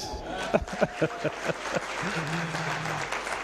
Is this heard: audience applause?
yes